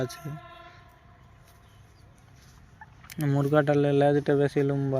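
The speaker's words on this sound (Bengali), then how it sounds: "তবে এই মুরগাটা যে দেখবে চয়েস লেগে যাবে একদম।" A rooster at a Tamil Nadu poultry market crows loudly and close after a few quiet seconds of faint background noise.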